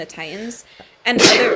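A single sharp sneeze bursts out near the end, following a brief stretch of casual talk on a podcast.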